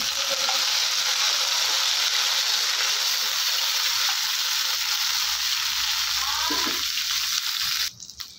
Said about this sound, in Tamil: எண்ணெயிலேயே நல்லா வதக்கி விட்ருங்க.